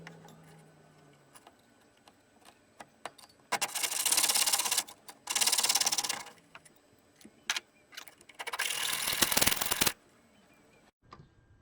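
Silver sheet pieces are cut out for turquoise pendants in three bursts of raspy, close cutting noise, each lasting one to two seconds, with faint ticks and taps between them.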